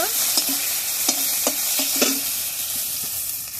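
Bay leaf, cardamom, cinnamon and garlic paste fry together in hot oil with a loud continuous sizzle, while a spatula scrapes the pan in several light strokes, heard up close.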